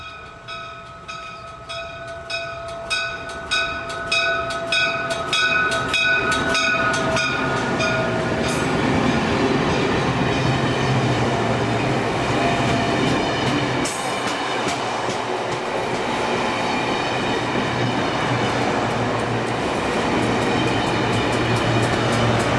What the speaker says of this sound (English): This Amtrak passenger train travels between New York City and Harrisburg